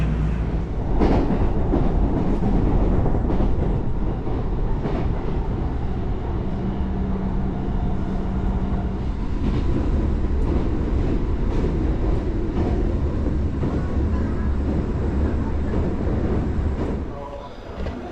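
Tokyo subway train ride heard from a seated passenger: a steady, loud rumble of the carriage with rail noise and a brief whining tone mid-ride, continuous throughout before easing off near the end.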